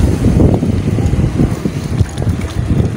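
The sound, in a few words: strong wind at sea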